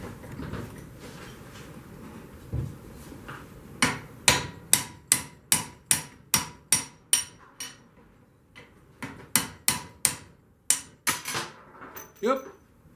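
Aluminum bar struck repeatedly with a hammer to drive a stuck part out during a 2023 DT250A engine rebuild: a run of about fifteen sharp, ringing metallic blows in uneven bursts, loud and close, with a short pause midway.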